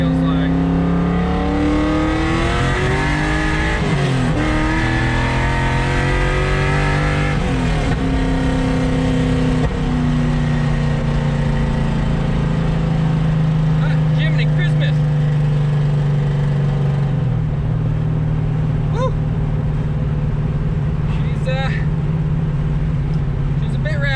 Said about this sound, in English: a second gear pull feels like.